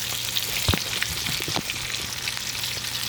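Chicken taquitos frying in a pan over medium-high heat, a dense continuous hiss and crackle with scattered pops and spatters, close and fairly loud with no voices.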